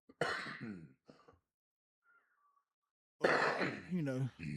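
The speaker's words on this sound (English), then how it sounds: "I apologize for all the coughing." Two bursts of harsh, close coughing with throat clearing, separated by a quiet pause.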